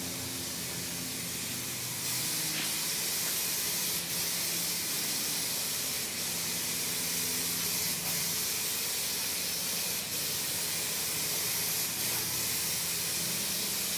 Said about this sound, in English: you don't have to spray right to the edge